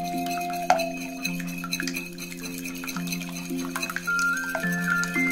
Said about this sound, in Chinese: 用打蛋器将鸡蛋液搅散，咱们要多搅一会儿，将鸡蛋液彻底打散